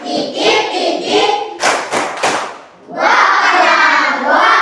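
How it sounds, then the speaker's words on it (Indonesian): Children in a classroom in Merauke chant in unison and break into a short burst of sharp, rhythmic hand claps midway, performing the tepuk titik clap routine, with loud group voices before and after. "Tepuk titik. Titik, titik. Titik, titik."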